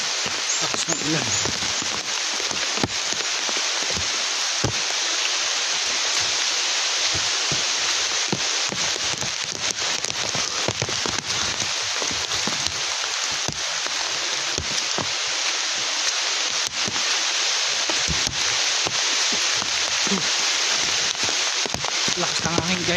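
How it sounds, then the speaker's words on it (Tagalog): Loud, roaring typhoon noise on a mountain, a constant broadband rush of wind and rain with gusty bursts and crackles, a voice occasionally underneath. "Lakas ng hangin guys, so napakalakas"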